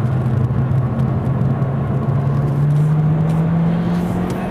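A Hyundai Genesis 2.0T R-Spec turbo car accelerates hard on a track hot lap, its engine drone rising steadily in pitch as it pulls, loud and close with steady road rumble.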